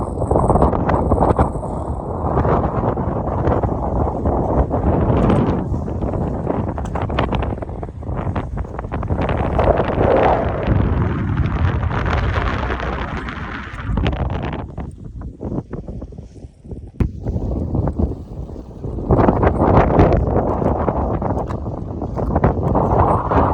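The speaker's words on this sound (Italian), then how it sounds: "tira un vento che fa impressione, oggi è gelido" Strong, icy wind roars across a snowy mountain ridge on Pasubio, buffeting the microphone in heavy gusts that swell and briefly ease before surging again, loud and close throughout.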